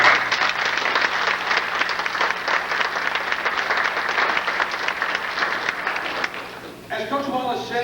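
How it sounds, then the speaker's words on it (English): An audience at a 1998 high school football conference awards ceremony applauds steadily and loudly for about seven seconds, then the clapping fades as a voice begins speaking. "I think all of you deserve a nice round of applause."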